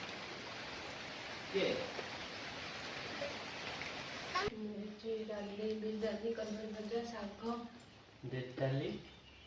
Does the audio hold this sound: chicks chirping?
no